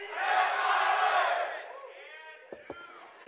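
A crowd roaring and cheering loudly for a couple of seconds, then fading as a voice speaks over the quieter background.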